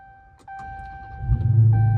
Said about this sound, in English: Car is going to start right up.